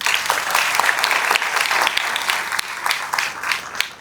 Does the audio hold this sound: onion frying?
no